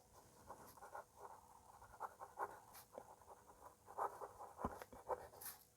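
A pen scratches faintly across paper while someone works a trigonometry problem on a right-angled triangle, with soft strokes coming in short irregular bursts and no talk.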